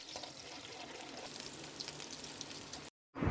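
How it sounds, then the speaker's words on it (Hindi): Beaten egg mixture sizzling in hot oil in a kadhai wok, a steady quiet crackling hiss that runs evenly, then drops out briefly before a louder stir at the end. "आधा कप मैंने ऑयल कढ़ाई में डाला और उस पर मैं ये अंडे का जो मिक्सचर है वो डालूँगी"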